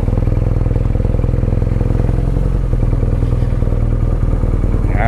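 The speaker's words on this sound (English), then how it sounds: "Test ride on an R9T Urban GS. What a wicked cool motorcycle." A BMW R nineT Urban GS motorcycle is ridden on the road, its engine a loud, close, steady low rumble with a rapid pulsing beat and wind noise throughout.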